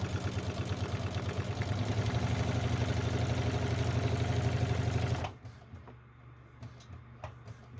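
A sewing machine runs steadily at a fast, even rhythm while stitching a fabric bag, then stops abruptly after about five seconds, leaving faint handling noises.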